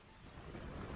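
A thunderstorm with very heavy rain makes a dense, steady roar of downpour with deep rumbling underneath, faint and continuous over a brief moment.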